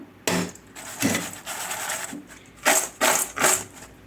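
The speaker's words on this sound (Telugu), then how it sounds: "చూడండి ఎంత కరకరలాడితే ఎట్లా ఉన్నాయో" Crispy fried okra pakodi is tossed in a bowl right after frying, producing several loud, dry crunchy rustles in separate bursts, close up with no voices.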